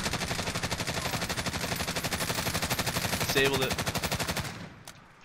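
Rapid machine-gun fire in a video game, shots aimed at a helicopter, a fast steady rattle of bursts lasting several seconds before cutting off, with a brief spoken remark over it.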